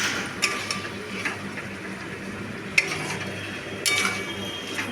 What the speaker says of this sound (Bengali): দিয়ে একসাথে সমস্ত মাংসটাকে নাড়িয়ে নিচ্ছি।